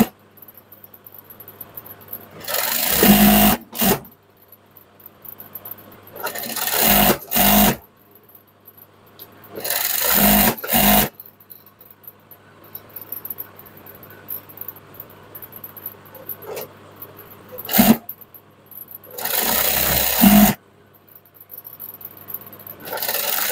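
Sewing machine top-stitching a joined seam on a burqa while shortening its length, in several short bursts of close, loud whirring separated by quiet gaps, no talking.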